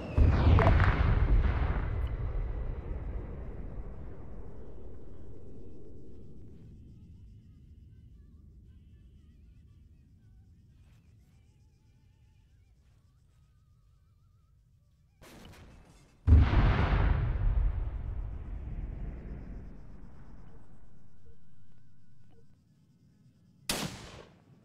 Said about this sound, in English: Can you bomb the hill?